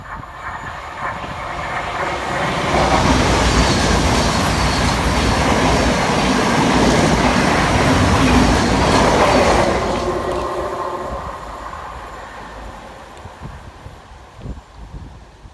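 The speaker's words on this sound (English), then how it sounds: "Next flying through the station for Southern and Thameslink is 700-127, working 9 Sierra 36 from Brighton through to Cambridge." A Thameslink Class 700 train running from Brighton to Cambridge passes through Purley station at speed without stopping, a rushing roar building over several seconds, holding loud with wheel clatter, then fading away.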